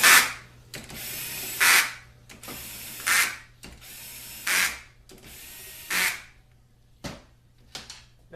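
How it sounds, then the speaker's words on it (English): A power screwdriver tightens a band clamp bolt in a series of short whirring bursts separated by pauses, close and clear with no talking. "That little impact there, it's not even an impact, it's just a screwdriver."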